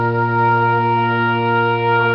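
A brass ensemble holds one steady, blended chord together at mezzo forte, sustained and even with no break.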